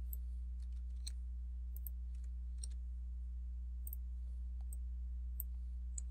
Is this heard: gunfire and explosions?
no